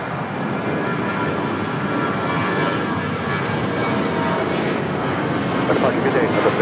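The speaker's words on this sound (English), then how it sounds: "Southwest Airlines Flight 3671 heading to Austin, Texas. 737-800 now taking off." Southwest Airlines Boeing 737-800 taking off at LAX, a steady broadband jet roar that builds slightly toward the end, close and loud, with voices talking over it.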